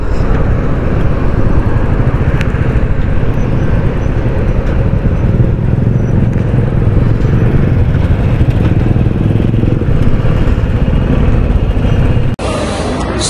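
Motorcycles on a Delhi to Vrindavan road trip pulling up at a roadside dhaba stop, a loud continuous rumble of engines idling and revving close by, ending with a brief clatter.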